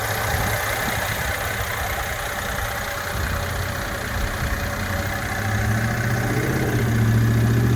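A 2015 Mercedes-Benz ML350 4Matic engine idles steadily and close by, with a smooth, even hum and a slight rise toward the end, and no voices.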